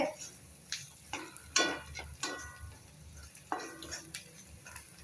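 Masala and tomatoes are sautéed in a pan for egg gravy, with repeated scraping stirs and clinks of a spoon against the pan over a soft background sizzle, several irregular strokes close by.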